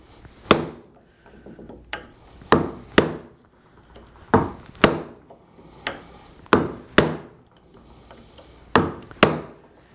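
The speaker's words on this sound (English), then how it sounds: "I'm driving this chisel in to almost the full depth of the bevel" A hammer whacks a chisel into wood while cutting a dovetail joint, about a dozen loud, close, sharp blows, often in pairs, each ringing briefly before the next.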